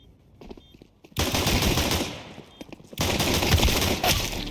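Counter-Strike gunfire on the Vertigo map: two dense bursts of rapid automatic shots, loud and close, separated by a brief lull with a few scattered quieter shots.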